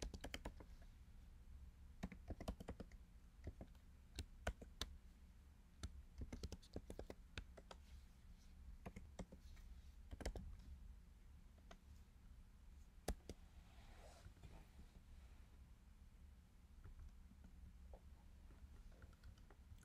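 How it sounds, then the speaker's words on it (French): Someone types on a computer keyboard while working on a Django web server, with irregular bursts of soft key clicks and pauses, quiet and close, no speech. "E pou nou fè sa, nap jist tape link sa."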